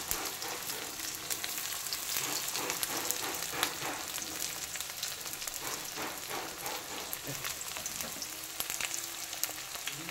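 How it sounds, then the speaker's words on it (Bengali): Chopped onion fries in hot oil in a pan on a home stove, a steady crackling sizzle with scattered pops and faint stirring scrapes, close and continuous throughout. "তো দিয়ে দিচ্ছি পেঁয়াজটা, এটা একটুখানি ভাজা ভাজা হয়ে গেলে"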